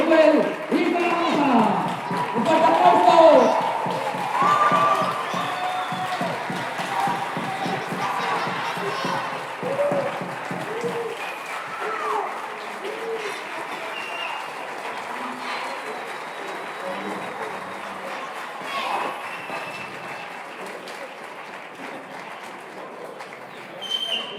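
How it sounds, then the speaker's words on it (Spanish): A crowd at a gathering in Alcañiz, Spain applauds loudly at first, with cheers and children's shouts mixed in, then the clapping gradually thins and fades while voices and chatter carry on underneath. "¡Un fuerte aplauso!"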